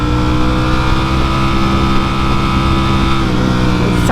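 A nearby car's engine drones loudly and steadily as it speeds up to get ahead of a Tesla on the street. Road noise runs underneath, and there is no talk.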